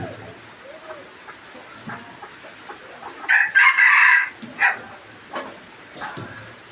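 A rooster crows once, loud and close, amid an outdoor farmyard with scattered clucks and faint background sounds before and after the crow.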